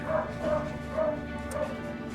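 A dog barks repeatedly in the video game Skies of Arcadia, short yappy calls at a steady rhythm over a droning game soundtrack, moderately loud.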